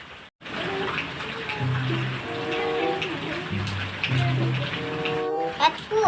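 Rain falls steadily outdoors in a dense, even patter that runs throughout, with some faint voices underneath.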